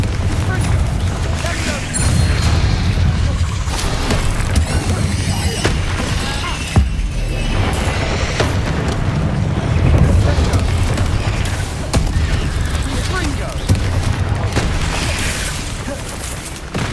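Repeated magical spell explosions from the Hogwarts Legacy video game, including Bombarda and Confringo, booming blasts and crashes over a dense, continuous layer of game effects and music.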